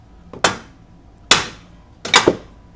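A hammer strikes a tie rod end on a 2004 MINI Cooper S (R53) three times, each a sharp, loud metallic bang spaced about a second apart.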